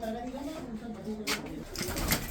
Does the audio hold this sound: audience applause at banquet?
no